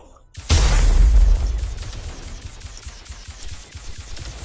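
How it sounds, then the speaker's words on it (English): A mine detonates in the tactical video game There Came an Echo, a loud sudden boom that rolls into a long rumbling decay, followed by a steady train of faint clicking pulses. "Detonate Mine 18."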